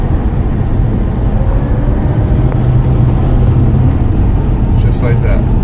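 Inside a Tesla speeding up hard to 85, the road and motor noise holds steady as a loud, continuous rumble with faint talk under it.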